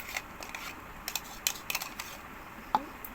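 A sugar and mango mixture is stirred in a wok, giving a series of faint, scattered metallic scrapes and clinks from the utensil against the pan, with one sharper ring near the end.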